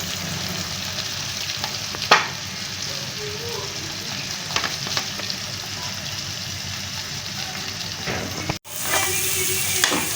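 Grated ginger, tomato and chilli frying in a pan, a steady close sizzle with a few stirring clinks and a brief drop-out before the hiss resumes, with no talk.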